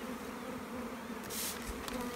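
Dense buzzing of many honey bees close by at a hive, a steady insect drone with a brief louder flutter as some pass near.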